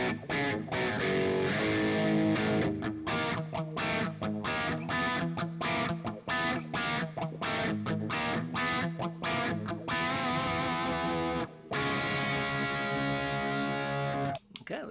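Electric guitar played through a Nebula Shimmer effect in a guitar app, dense distorted chords and notes with a shimmering, sustained wash, loud and continuous with short breaks near the end.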